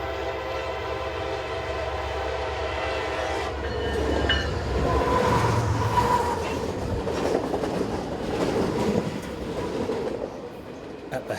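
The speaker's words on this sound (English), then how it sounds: "On the south side, a westbound manifest is approaching the eastbound platforms." A westbound CSX freight manifest train on the Metropolitan Subdivision in Maryland, led by SD40-3, ES44AH, SD50 and C40-8W diesel locomotives, sounds its horn on approach, then rumbles past loudly with rising engine roar and clattering wheels.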